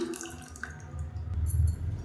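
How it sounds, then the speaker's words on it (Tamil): Water trickles and drips into ground millet batter poured from a mixer jar, a soft liquid splash building toward the end, with no voices. "இப்போ மிக்சியை அரைச்சிட்டு கொஞ்சமாக தண்ணி சேர்த்துக்கலாம்"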